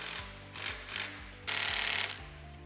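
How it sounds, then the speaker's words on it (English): Screws are tightened into the legs of a Rhino-Rack Pioneer platform roof rack on a Toyota Land Cruiser roof, giving close mechanical clicking and ratcheting in short bursts, then a longer buzzing run. "Align and tighten the 2 screws in each leg to the roof"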